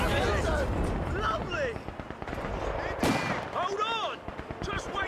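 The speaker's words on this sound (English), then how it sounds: "See what those rifle grenades do." Rifle grenades explode in Company of Heroes 2 battle, with a loud, dense mix of booming blasts and rattling gunfire. A big burst lands near the middle, and whistling shells streak overhead throughout.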